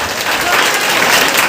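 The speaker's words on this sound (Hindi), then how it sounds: "तालियां तो जोरदार बजाइए। तालियां बजाएं।" Audience at a Janmashtami festival event bursts into dense, loud, sustained applause, clapping filling the space throughout the short moment with crowd noise mixed in.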